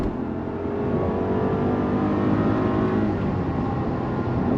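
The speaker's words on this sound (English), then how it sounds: "On throttle, 8-speed drops down, we're off." A 2024 Rolls-Royce Ghost accelerating hard from highway cruising speed as its 8-speed gearbox downshifts, giving a smooth, steady engine hum and road roar that swells gently, heard from inside the cabin with no talk.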